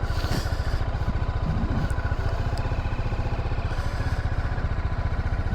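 A 2024 BMW G310GS motorcycle engine on a test ride, thrumming steadily and loudly at an even pulse throughout, with no voices over it.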